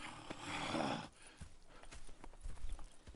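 Horses clip-clop in Red Dead Redemption 2, a near, uneven patter of hooves on the ground following a brief rustling swell, with no talking over it.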